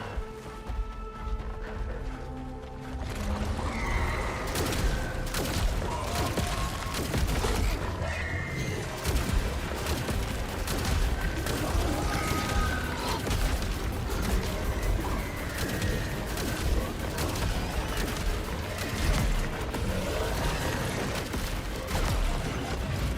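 Onslaught rifle gunfire in a shooter game crackles as dense rapid bursts of sharp cracks and impacts, loud and sustained after a quieter opening few seconds.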